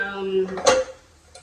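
A metal casserole pot clanks once as it is handled and set down, a short ringing knock right after a voice trails off.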